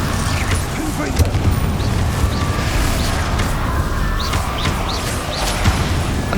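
Confringo fire spells burst in Hogwarts Legacy combat, dull booms landing within a dense, continuous wash of game effects and background noise.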